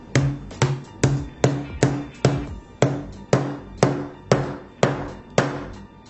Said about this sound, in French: il annonce dans le titre qu'il est sur le point de tous les détruire avec un marteau